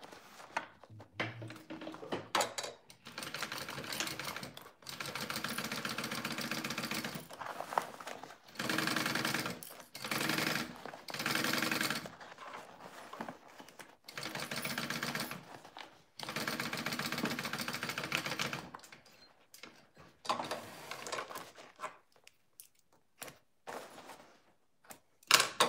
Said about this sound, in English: Sewing up my lining, and then I'll sew up my pocket.